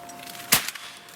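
A single sharp shotgun blast fired during a bird hunt cracks out mid-clip over quiet outdoor ambience, with a short echo trailing after it.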